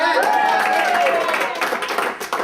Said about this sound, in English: Round of applause for Nick one more time.